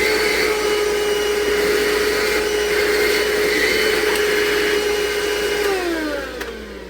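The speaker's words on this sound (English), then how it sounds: "Darn it, I vacuumed up one of the nails." A vacuum cleaner runs at a loud, steady whine nearby while sucking up ants in a room, then its pitch drops as the motor starts winding down at the end.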